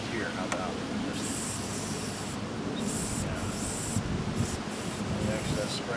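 Cleaner sprays from an aerosol can onto a dirty idle air control valve from a 2001 Dodge Dakota 4.7L, in several short close hissing bursts with pauses between, as a voice speaks once briefly.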